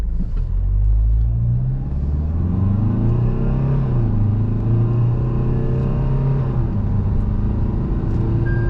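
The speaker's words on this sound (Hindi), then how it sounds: "एफर्टलेसली मेरी कार 100 तक पहुंच गई इतनी सी देर में, और सी क्या ज़बरदस्त कार भाग रही है" A Tata Harrier BS6 automatic accelerates hard in sport mode, its engine a loud, close rumbling drone that climbs in pitch through several gear shifts, heard from inside the cabin with no talk.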